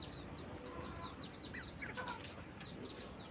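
Chickens clucking and chirping faintly in the background of a home morning routine, scattered short calls over a steady low rumble of ambient noise.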